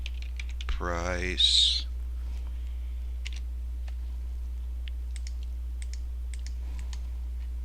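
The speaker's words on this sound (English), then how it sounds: "let's type it in here, Bitcoin" Light clicks of a computer keyboard as a search is typed, sparse taps spread over several seconds after a brief spoken word and a tonal chirp, with a steady low hum underneath.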